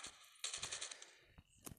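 Gunfire in Call of Duty Mobile plays as a quick burst of faint, rapid shots followed by a couple of isolated shots, without talk over it.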